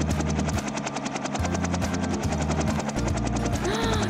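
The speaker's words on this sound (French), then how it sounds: "Oh! Un hélicoptère!" A cartoon helicopter drones steadily with a rapid rhythmic rotor chop, loud and close throughout, ending with a short rising whistle.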